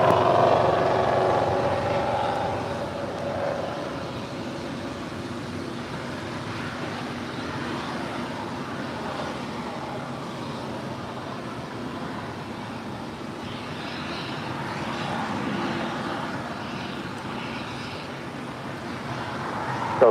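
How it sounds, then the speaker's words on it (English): Singapore Airlines Boeing 777-300ER jet taxiing at LAX after landing on runway 24 right, a steady broad engine rumble and hiss held at a distance throughout, fairly even in level with no talking. "Singapore Airlines in the 777-300ER coming in from Tokyo to Rita, making our way over here to the south side after landing on 24 right"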